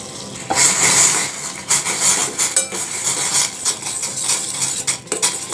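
Soaked china grass being stirred in boiling water in a pot, with repeated metal spoon scrapes and clinks against the pan over a bubbling, hissing boil.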